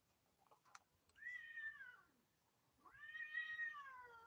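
Cats meowing and fighting outside a window: two long, drawn-out yowls, the second rising and louder, faint and somewhat distant, with no talking.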